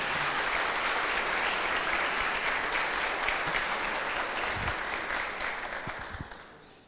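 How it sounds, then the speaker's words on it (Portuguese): A congregation at a religious service claps for a couple and their family, a dense, sustained round of applause that tapers off at the end. "Vamos aplaudir esse casal, essa família."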